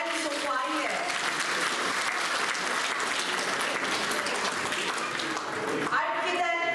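Sustained crowd applause fills a gala night celebrating Philippine Independence Day, dense and steady throughout, with a voice briefly audible near the end.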